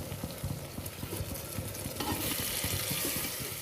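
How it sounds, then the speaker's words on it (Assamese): Mutton sizzles in hot oil in a pan, with rapid crackling and repeated spatula knocks as the meat goes in and is stirred, and the hiss swells partway through. "এতিয়া মই মাংসখিনি দিবৰ সময় হৈ গৈছে অলপ অলপকৈ মাংসখিনি দিম আৰু ভাজি দিম"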